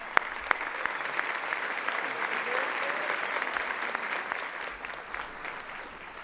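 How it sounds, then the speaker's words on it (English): Audience at a Legacy of Hope Youth of the Year celebration dinner breaks into a round of applause, a sustained wash of many hands clapping at moderate volume, with a few sharper claps standing out near the start. "If we give them a round of applause."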